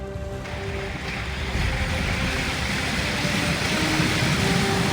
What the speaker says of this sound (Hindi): तेज हवाओं और ऊंची लहरों ने उन्हें अपनी पकड़ में ले लिया।